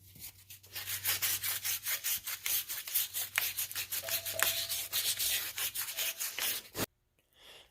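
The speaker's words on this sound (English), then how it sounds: "I'm going to clean up the inside of this right here. Just going to take some sandpaper." Sandpaper scrubbing the inside of a wheel hub on a 1990–93 Honda Accord: quick rhythmic back-and-forth rasping strokes, close and steady for about seven seconds before stopping abruptly.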